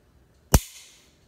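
A single sharp mechanical click of a pistol trigger dry-firing, crisp and close, with a brief ringing tail and silence on either side.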